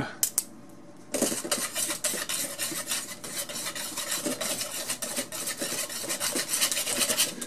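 A whisk scrapes and rasps steadily around a bowl, mixing all-purpose flour with baking soda, with a couple of sharp taps before a continuous, close, brisk rubbing rhythm takes over.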